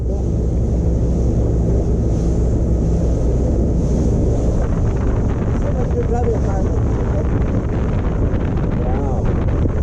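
Wind roars steadily across the microphone aboard a newly owned boat moving over water, a loud constant rush with engine and water noise beneath it and faint voices talking in the background.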